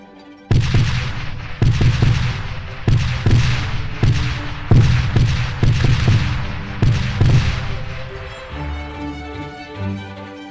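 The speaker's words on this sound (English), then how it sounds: "Starboard battery, rolling broadside, fire!" Ship cannons in a sailing naval game fire a rolling broadside, a steady run of about a dozen loud booms spaced roughly half a second apart, each with a deep rumbling tail, before fading into quieter ambience.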